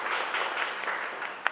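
A seated audience at a women leaders' talk event in Gharaunda claps together, a brief, dense burst of applause heard up close that holds steady and ends with a sharp final clap.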